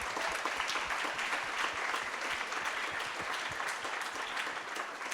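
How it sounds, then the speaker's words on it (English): Audience applause for a panel at a discussion event: steady, dense clapping from a roomful of people that holds at an even level for the whole stretch, with no voices standing out. "let's give them a round of applause"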